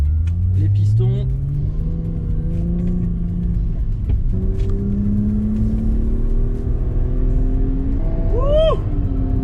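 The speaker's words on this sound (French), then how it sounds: "Une voiture qui avance, ça m'avait manqué." A Subaru Legacy R accelerates along an expressway, its engine note climbing steadily through the gears with a deep, close rumble inside the cabin, and a brief higher whirring sweep near the end.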